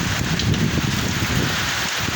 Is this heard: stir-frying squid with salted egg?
no